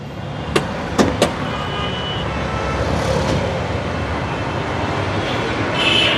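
A 1500cc Honda Vezel idles steadily, a close, even engine hum with a few sharp clicks at the start and no voices.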